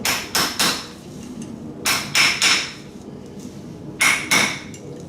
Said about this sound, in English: And then you want to take a hammer